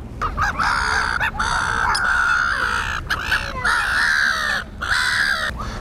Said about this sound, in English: the seagulls are just so loud